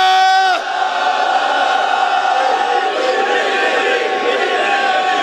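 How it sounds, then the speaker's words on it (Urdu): Religious gathering crowd loudly shouting back a devotional slogan, a massed roar of voices sustained for several seconds after a sharp chanted call at the start, loud and close. "جو جتنا مانتا ہے اتنی بلند آواز میں نعرے کا جواب دے۔"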